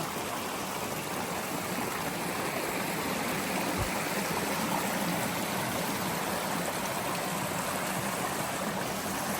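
A stream rushes steadily near a waterfall on a forest camping trip, a constant broadband water roar with no pauses, heard close and alone.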